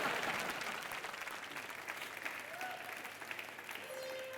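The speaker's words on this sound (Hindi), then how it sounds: "तुम ताली दो मुझे, आसान कर दो।" A studio audience on the Colors TV comedy show Entertainment Ki Raat claps in a steady, dense wash, faint and somewhat distant, with a few brief tonal sounds over it.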